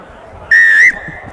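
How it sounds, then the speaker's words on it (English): A referee's whistle at an amateur rugby match gives one sharp, loud, steady blast lasting under half a second, with quiet outdoor ambience before and after. "Comes on my whistle."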